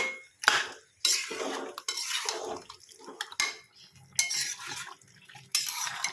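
Chicken and potatoes stirred in a pot after the lid is lifted: close clattering metal clinks and scrapes of spoon and lid in irregular bursts, with wet stirring sounds between them and no talking.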